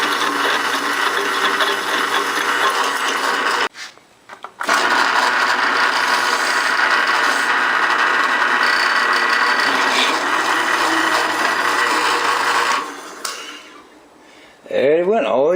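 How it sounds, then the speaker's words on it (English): A drill bores a hole through a clamped Cub Cadet 1650 garden tractor axle, grinding steadily and loudly for several seconds. It briefly stops, resumes, then winds down at the end. "the first thing we'll do is drill a hole to our axle"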